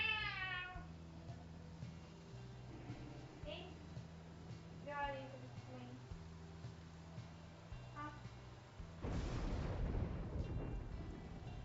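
A cat screams out a string of loud, insistent meows close up, several spaced cries in a row, then a burst of broadband rumbling noise takes over near the end.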